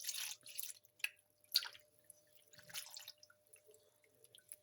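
Water dripping from rice noodles draining in a strainer, with irregular close drips and small splashes that come and go, no voices.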